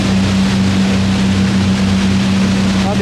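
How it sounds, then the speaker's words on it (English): Lancaster bomber NX611 running its piston engines outdoors, a loud, steady droning hum with a fixed low tone that holds evenly throughout. "it's not the compressor running, that's the Lancaster outside"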